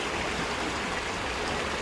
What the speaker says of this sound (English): this river contains more trash than water